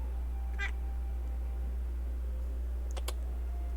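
A kitten gives two short meows a few seconds apart over a low steady hum, with faint clicking nearby.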